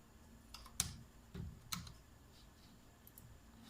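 Faint, sparse clicks of computer keyboard keys come from someone entering a command in AutoCAD, a handful of separate taps against a quiet room.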